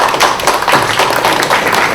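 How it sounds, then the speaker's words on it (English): A symposium audience applauds four speakers with dense, loud clapping that carries on steadily through the whole moment. "give them a big round of applause for these four speakers"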